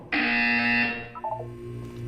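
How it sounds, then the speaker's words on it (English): A loud, steady electronic buzzer from the Portal 2 video game sounds alone for about a second, then breaks into a few short, fading tones with a low hum beneath. "When you hear the buzzer, look down at the floor."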